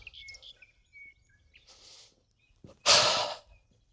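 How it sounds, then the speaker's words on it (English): Birds call in winter countryside, with a few faint, scattered chirps and tweets drifting through near-silence, then a sudden loud breathy burst close by. "I'm amongst the birds."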